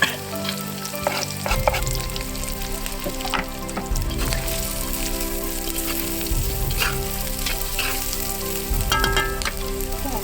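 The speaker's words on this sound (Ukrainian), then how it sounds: "Спочатку даємо цибульку. Даємо чесничок, даємо морковочку." Onion, garlic and carrot fry in a pan with a constant close sizzle, while periodic stirring and scraping of a utensil against the pan cuts through at intervals.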